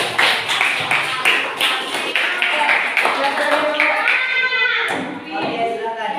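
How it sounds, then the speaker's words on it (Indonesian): A classroom of girls in an eighth-grade class at an Islamic junior high school claps for a presenting group, a dense run of hand claps and taps lasting several seconds, with children's voices chattering over it near the end. "tepuk aplaus untuk kelompok 4"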